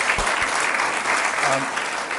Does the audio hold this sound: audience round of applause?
yes